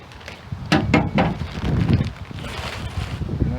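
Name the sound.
wind blowing outdoors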